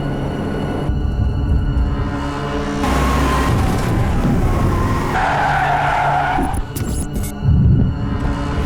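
A car skids to a stop with a loud, sustained tire screech over engine noise, ending in a short rumble as it halts.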